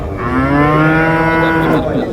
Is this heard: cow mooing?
yes